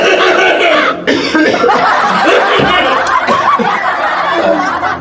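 A person in a comedy sketch about a doctor treating whooping cough coughs loudly and repeatedly, mixed with laughter and chuckling from nearby voices that continue throughout.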